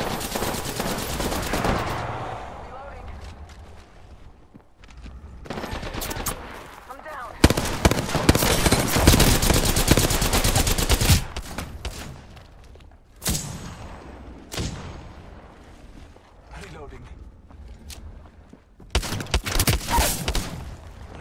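Apex Legends gunfire: bursts of rapid automatic shooting and single shots come in clusters with short gaps, loud and close, the longest barrage in the middle, with brief game voice lines between.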